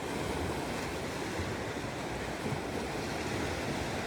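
Ocean surf rolling in at high tide on a Vancouver Island shore, a steady broadband roar of breaking waves with wind buffeting the microphone, continuous and loud throughout with no voices.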